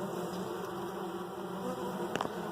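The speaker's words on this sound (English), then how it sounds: "See where the congregation of the bees are. There are quite an abundance of them in here." A steady, dense buzzing of many honey bees in an open hive close by, continuous throughout with a brief louder flurry near the end.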